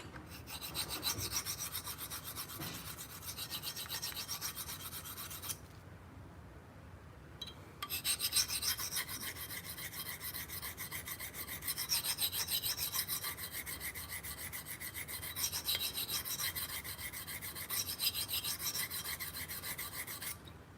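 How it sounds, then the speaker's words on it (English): A blade is sharpened on a DiaSharp extra coarse diamond plate, making continuous rhythmic rasping strokes up close with a brief pause partway through, then steady grinding again; no voices. "It's a Dia Sharp extra coarse plate."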